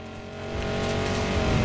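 A Mustang's engine in Need For Speed Payback roars steadily and builds in loudness as the car accelerates, a close, continuous harmonic drone with no talk.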